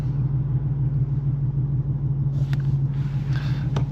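A Ford Mustang GT engine idles with a steady low rumble close by, while faint clicks and rustling come in near the end and no one speaks.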